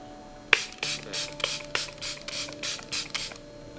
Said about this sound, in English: You want to shake it up like this and then spray your whole face.